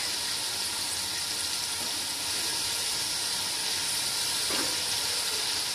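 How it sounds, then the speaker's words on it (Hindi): Tomatoes fry in a pan for vegetable pulao, giving a steady, close hiss and sizzle that runs unbroken for the whole stretch with no voices over it. "अब हम इसमें डालेंगे टमाटर और उसको हम थोड़ा सा फ्राई करेंगे"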